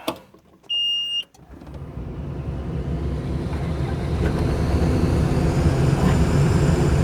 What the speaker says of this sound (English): So we'll go ahead and start the machine.